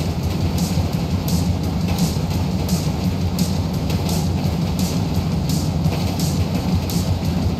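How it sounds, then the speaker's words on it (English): A train rolls along the tracks in GTA V, a loud, dense rumble with regular rhythmic clacks, steady throughout and up close, without any voices. "Train ain't stopping here, boys!"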